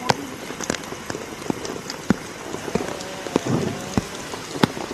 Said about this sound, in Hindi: दूसरी तस्वीर जहां पर बारिश हो रही है